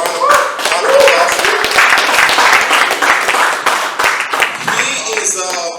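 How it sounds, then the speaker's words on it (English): An audience at a youth summit gives a round of applause for a trainer, with dense, loud, sustained clapping for several seconds that tapers off as a voice returns near the end. "Let's give a round of applause"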